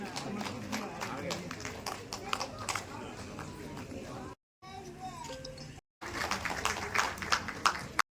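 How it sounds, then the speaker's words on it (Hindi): An audience claps in a steady stream of sharp hand claps during an honour ceremony at a Kajri festival, with crowd voices mixed in and the clapping briefly cut away before returning strongly. "तालियों की गड़गड़ाहट तेज होनी चाहिए, क्योंकि हम यहाँ पर हस्ती का एक सम्मान कर रहे हैं"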